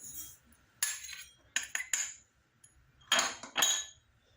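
A spoon clinks and scrapes against a bowl while mixing lemon juice and garden cress seeds, in a few short, close clusters, with quiet gaps between the bright taps.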